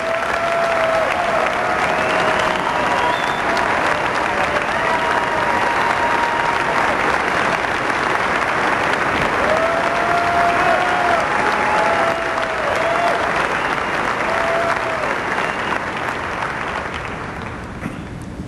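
An audience welcomes Ambassador Dori Gold to the stage at a Christians United For Israel event with loud, steady applause from a large crowd, sustained throughout and easing slightly at the end.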